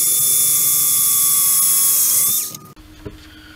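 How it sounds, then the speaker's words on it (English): A drill set to slow speed bores through a plastic lawnmower hood mount with a steady, close whine that cuts off after about two and a half seconds, followed by a few faint clicks. "it drilled through the plastic just fine"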